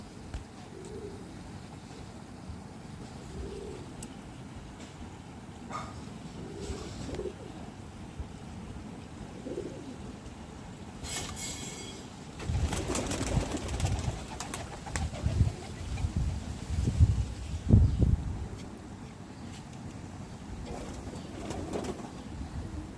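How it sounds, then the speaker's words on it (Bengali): Pigeons coo softly and repeatedly in low, throaty murmurs against a background hum, with some louder rustling and flapping midway. "বাড়ি আমার সমস্ত জায়গায় কবুতরে ভরে গিয়েছে"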